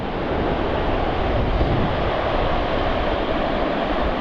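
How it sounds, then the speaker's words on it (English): Steady wind blowing on a Bristol Channel shoreline at low tide, a continuous broadband roar with surf-like rushing and buffeting against the microphone, loud and unbroken throughout. "We've got a wind straight in our face today."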